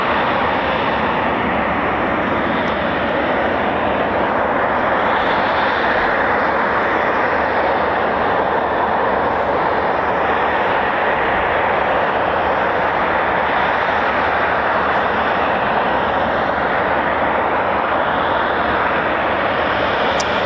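Eurofighter Typhoon FGR4 jet at RAF Coningsby, heard as a steady, loud, broadband engine roar that holds continuously throughout, with no talk over it.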